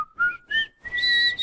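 A person whistles a short, bright melody, a Harlem Globetrotters theme, in a few quick rising and sliding notes. The whistling is close, clear and alone, with no talking.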